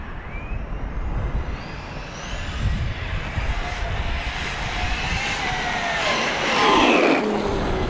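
A Traxxas Rustler 4X4 RC car runs at half throttle, its electric motor giving a continuous high whine that sweeps up and down as it speeds past, moderately loud over outdoor background noise.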